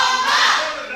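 A wrestling crowd at a ProSouth Wrestling event rallies behind a wrestler with clapping and cheering, a brief, dense burst of noise that swells and then eases slightly.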